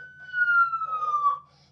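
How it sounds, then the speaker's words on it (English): A vehicle's siren or horn system set to police-car tones gives one short, loud electronic wail that holds steady and then slides slightly downward before cutting off, heard alone in a quiet space. "Now that system as well has a siren or a horn or whatever you want to call it."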